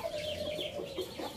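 Young Indio Gigante rooster about four and a half months old, giving a drawn-out clucking call with a few short throaty clucks after it, close and alone.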